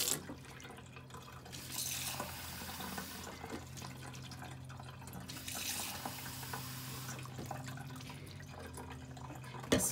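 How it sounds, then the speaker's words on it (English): Water pours and splashes steadily into a sink while rinsing a cyanotype print on fine, fragile paper, rising in louder gushing surges every few seconds with no voices. "I'm going to continue rinsing a little while longer just by pouring water down it"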